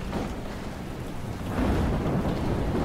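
A thunderstorm in the video game Life is Strange brings steady heavy rain hissing alone, with a low thunder rumble swelling about halfway through and making the storm louder.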